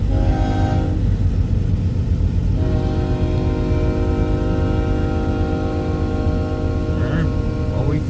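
A freight train rumbles past close by at Pacific Junction, Iowa, with a loud, sustained horn blast holding several tones, broken briefly near the start and again toward the end.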